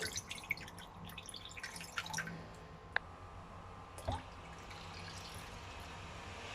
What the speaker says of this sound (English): in my saucepan, I'm going to add 4 cups of water